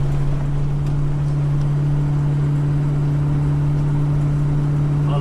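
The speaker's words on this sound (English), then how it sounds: "You really hear the V8 coming up the hill here, as opposed to when you're cruising." V8 car engine labouring up a hill, a steady loud low drone with a strong constant hum and rumble throughout, no talk.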